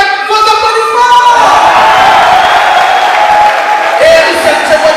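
Audience greeting artist Russell Tcheboua Caruso with loud applause, cheers and whoops, a dense crowd roar with voices shouting over the clapping, swelling and holding close for several seconds.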